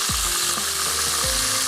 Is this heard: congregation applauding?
no